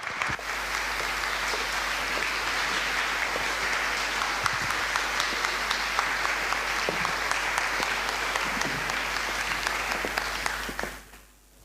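Audience applause in a lecture hall as speaker Ellis Cose is welcomed, with steady, sustained clapping from a sizable crowd for about ten seconds before tapering off quickly.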